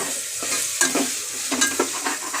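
Mutton pieces frying and being stirred in a pan with onion, green chili and ginger-garlic paste for a mutton curry, with a steady close sizzle broken by several spoon scrapes and clatters.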